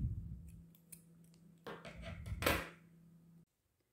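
Scissors snip the end of crochet yarn on an oval rug, with a few small handling clicks, then two or three crisp close cuts before the sound stops abruptly into silence.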